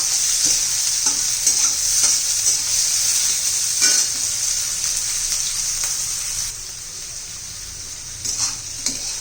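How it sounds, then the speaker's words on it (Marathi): Stale bhakri chivda is stir-fried in a pan. A steady, close sizzle runs throughout, with repeated scrapes and knocks of a spatula against the pan at an uneven rhythm. "परतून घेऊया"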